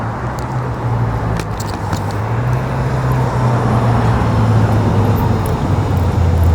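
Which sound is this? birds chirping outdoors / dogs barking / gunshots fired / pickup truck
pickup truck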